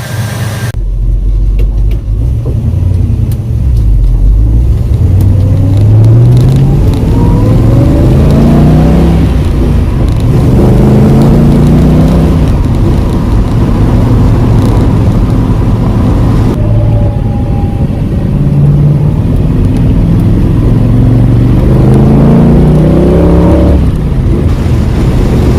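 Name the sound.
1966 Ford Mustang driving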